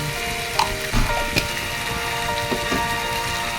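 Ampalaya (bitter melon) with chicken, salt, dried fish and fine black pepper being stirred in a pan, giving a steady close sizzle with a few scraping clicks of the spatula throughout.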